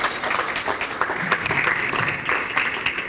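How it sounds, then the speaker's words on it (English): A dinner audience at an anniversary celebration gives a round of applause to welcome a speaker, continuous moderate clapping lasting a few seconds without pause. "a round of applause to welcome him"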